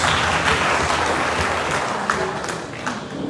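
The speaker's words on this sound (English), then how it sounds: "So let's give them a round of applause." Crowd applause at a transport ministry launch event in Liberia, a broad, roomy roar of clapping mixed with crowd noise, loud and steady, easing slightly toward the end.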